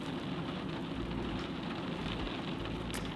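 Rain falls steadily as a soft, dense hiss with faint pattering, an even, fairly quiet wash of sound that never lets up.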